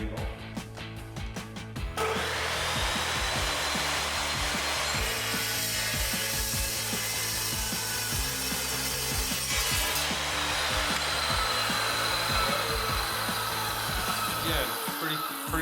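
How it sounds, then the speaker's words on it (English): An M.K. Morse 14-inch Metal Devil saw cuts metal flat stock with a loud, continuous grinding rasp carrying a rhythmic low pulsing, preceded by a short stretch of motor whine. "All right, let's cut a piece of flat stock. Actually, I'm gonna cut it 3 ways."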